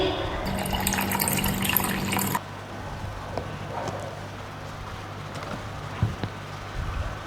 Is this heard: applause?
no